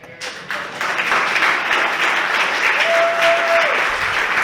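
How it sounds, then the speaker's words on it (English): Audience applause at a comedian's first live stand-up performance begins after a brief quiet moment, then holds as a steady, dense wash of clapping for several seconds. "in the words of the late, great Jeb Bush, please clap."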